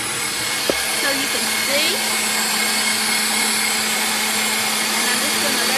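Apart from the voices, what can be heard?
electric mixer on high whipping cream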